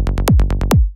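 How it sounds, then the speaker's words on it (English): A short, loud burst of punchy synth bass notes from a tech trance bassline, run through a warm multiband saturation preset, with about seven quick plucks, two heavier accented ones, and a fast decay at the end. "we're just going to work with a preset. It's called Warm Tune Bass 6,"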